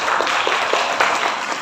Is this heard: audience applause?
yes